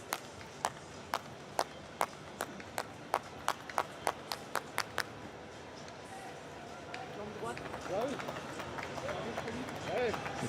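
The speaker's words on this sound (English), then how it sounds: "It's a small round of applause from the little gathering of officials and those accredited who are allowed to come in" A small gathering of officials at Tokyo 2020 Paralympic athletics claps in a slow, evenly spaced rhythm for several seconds, then fades into the open stadium's ambience while a commentator talks over it.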